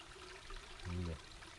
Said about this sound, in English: with a babbling brook in the background